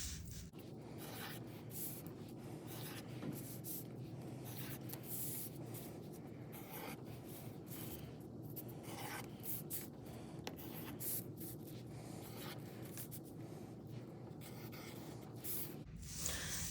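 Pencil drawing circles along a stencil, a faint, continuous scratchy rubbing of graphite on paper, close and quiet, with no talking.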